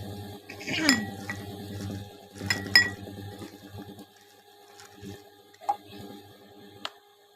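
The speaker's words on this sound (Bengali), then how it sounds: "এবার বন্ধুরা এটা একসাথে মেখে নেব।" Fried prawns are mixed with salt and spices in a bowl, close scraping and clinking bursts in two longer bouts followed by a few sparse light taps, fairly quiet.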